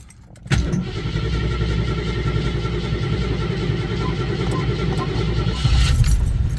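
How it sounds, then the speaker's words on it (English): A 1990 Jeep Grand Wagoneer with a carbureted engine cranks briefly and catches, then settles into a loud, steady, close idle with a deep rumble that swells slightly near the end, and no talking. "I wanted to start up the engine here so you can hear it."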